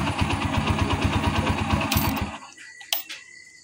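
A freshly overhauled STX 125 motorcycle engine chugs in a fast, steady idle rhythm, then cuts out abruptly, followed by a couple of brief clicks and near silence.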